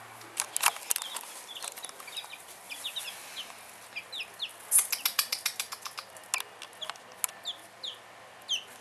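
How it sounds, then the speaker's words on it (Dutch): Young chicks under a heat lamp chirp in a dense, busy chorus of short high peeps, some close and loud, with no talking. "Ik zal je de kuikentjes even laten zien."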